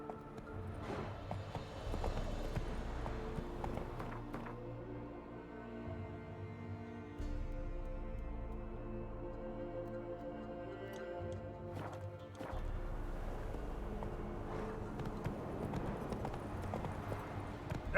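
Steady, rhythmic hoofbeats from the horse Roach trotting in The Witcher 3, a continuous clip-clop that carries on without pause at moderate level, with no talking.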